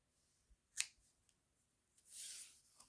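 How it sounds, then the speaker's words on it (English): Scissors snip through thread strands for a craft tassel, giving one sharp close cut followed later by a longer rasping slice, with quiet pauses between. "So let's cut this."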